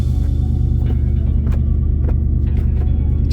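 A BMW car engine idles with a steady, low rumble, close by and continuous, with a few faint clicks over the drone.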